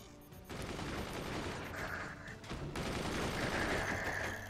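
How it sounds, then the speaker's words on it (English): A machine gun in the fort-building game Forts rattles in sustained rapid bursts, a dense continuous clatter broken by one brief pause, fairly loud and with no talk over it. "Hey, that was my machine gun."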